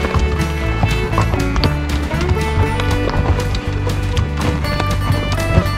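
A pack horse walking a mountain trail in the Sawtooth Mountains toward the Ross Fork Lakes makes steady, close hoof clip-clops in an even rhythm over a continuous low background rumble.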